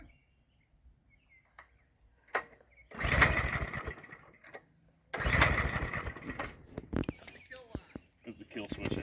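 A Coleman CT200 mini bike with a 196cc engine starts and runs in two loud bursts of engine noise, separated by a short lull, with some quieter clatter around them and voices talking.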